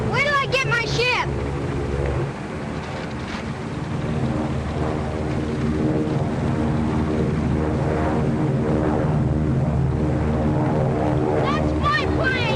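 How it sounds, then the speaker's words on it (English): A propeller airplane flies overhead in a 1939 film soundtrack, a loud, steady droning engine hum with brief whistling sweeps at the start and end. "That's my plane!"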